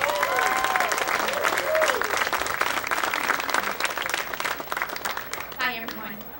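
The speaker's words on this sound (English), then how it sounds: "We'll give her a round of applause." An audience applauds a speaker at a Founder's Day event, with sustained dense clapping across the whole stretch. Faint voices and a short musical or vocal flourish rise briefly near the end.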